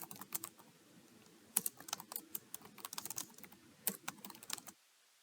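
Someone types a sentence on a computer keyboard in quick, irregular bursts of soft, close key clicks, then stops, leaving near silence.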